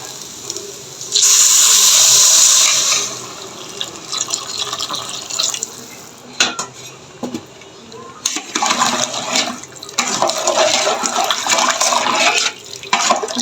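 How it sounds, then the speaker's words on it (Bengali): Hot water poured into a pot of fried rice before cooking, a loud rushing gush for a couple of seconds, followed by lighter splashing and dribbling sounds. "এখন এই যে গরম জলটা দিয়ে দিচ্ছি"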